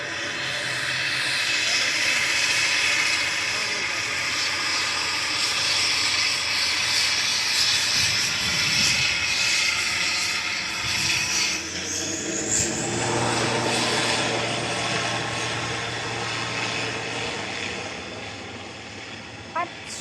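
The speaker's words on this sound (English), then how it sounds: "Right, back to this noisy prop" Propeller airplane at Manchester Airport droning loudly close by, a continuous engine roar with shifting pitch while taxiing, with people talking over it at times.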